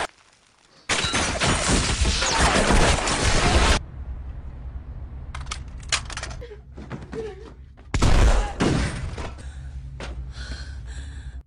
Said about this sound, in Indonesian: tempat itu diberondong peluru